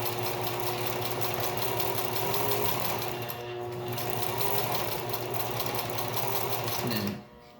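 A sewing machine stitches fabric for a face mask, backstitching in a steady, rapid mechanical whir that runs continuously and close, then stops abruptly near the end.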